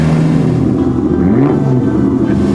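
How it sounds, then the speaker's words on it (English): A Ferrari SWB California with a 3-litre V12 Colombo engine runs during a shakedown drive, giving a loud, steady, close-up engine drone whose pitch lifts briefly in a rev rise. "That's the classic Ferrari 3-litre V12 Colombo engine."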